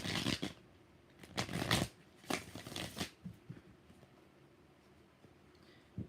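A deck of tarot cards shuffled in a cluster of crisp, close bursts near the start, then quieter handling and long near-silent gaps.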